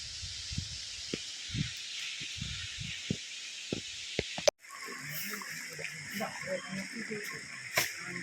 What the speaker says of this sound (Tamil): செம்மையாக தண்ணி ஓடிட்டுருக்கு